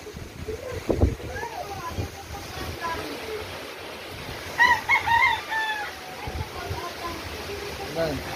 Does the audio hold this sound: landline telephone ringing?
no